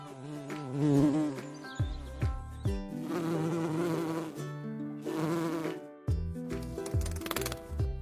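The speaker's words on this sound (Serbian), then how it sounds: "Bumbar." A droning buzz like a bumblebee, layered with tonal, musical notes that rise and fall over several seconds, fairly loud and steady.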